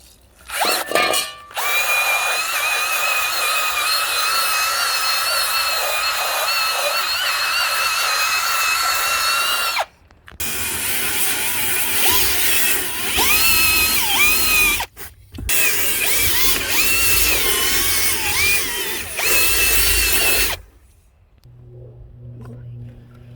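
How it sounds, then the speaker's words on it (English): A power drill spins scrub brushes across the seats, floorboards, consoles and door panels of a truck interior. It makes a loud, steady high motor whine that runs in three long bursts with short pauses between them. "You can use these drill brushes on your seats, your floorboards, your consoles, your door panels, everything."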